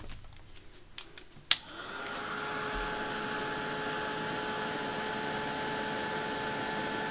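A heat embossing tool switches on with a click and settles into a steady, close, whooshing blower drone over paper, continuing unbroken to the end with no talk.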